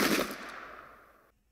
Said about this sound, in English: Let's shoot at this guy again.